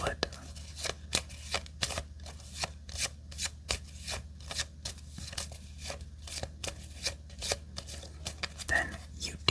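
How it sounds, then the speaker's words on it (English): Playing cards from a discard pile in a fantasy card battling game are shuffled, with quick crisp riffling bursts repeating in a steady rhythm, close and fairly quiet. "You take the discard pile and shuffle it."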